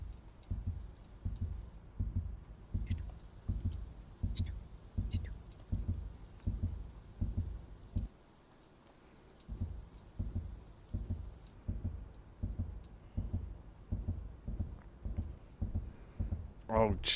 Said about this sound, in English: That's fast for a heartbeat.